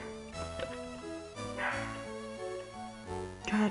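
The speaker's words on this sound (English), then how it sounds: "God dang it, dog." A dog barks and yips in short bursts over steady, melodic chiptune game music from Pokemon Fire-Red, the barks moderately loud and irregularly spaced.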